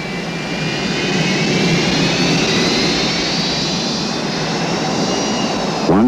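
A steady jet airliner engine roar during cruise at altitude, a continuous broadband rush with high whining tones, loud and unbroken throughout with no talk.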